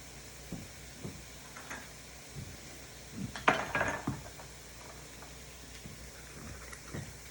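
A Pampered Chef adjustable measuring spoon being handled, with light metallic clicks and taps and a louder cluster of clinks midway, over faint kitchen background noise.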